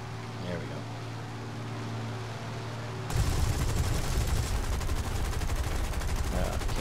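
A tank cannon fires in the War Thunder video game, a sudden loud blast partway through followed by dense sustained rumbling noise, after a quieter stretch of steady engine hum.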